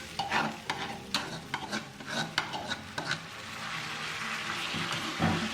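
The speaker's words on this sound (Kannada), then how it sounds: "ಈಗ ನಾವು ಇದಕ್ಕೆ ಈ ನೆನೆಸಿಟ್ಟಿರೋ ಸಾಬುದಾನನ ಹಾಕ್ಕೊಳ್ಳೋಣ" Soaked sago stirred into potatoes frying in a pan makes a run of close, sharp scraping strokes over a soft sizzle, settling into a steadier frying hiss with one last scrape, and no one speaks.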